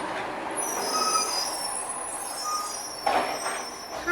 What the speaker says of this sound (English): Is that the recycle truck now?